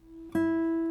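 A classical guitar's open first string, the high E, is plucked once, ringing out as a single steady sustained note with clear harmonics after a quiet lead-in.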